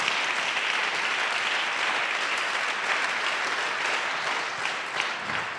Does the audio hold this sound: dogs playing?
no